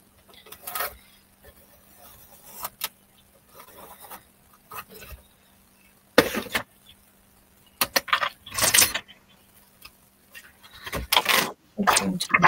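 Scissors snip a circle out of a sheet of paper up close, in irregular bursts of crisp rasping cuts separated by short pauses.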